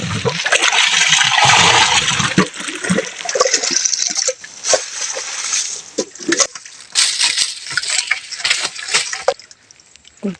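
Strong water gushing and splashing from a spring source into a tank, a loud, steady rushing flow that later breaks into choppier splashes and trickles toward the end.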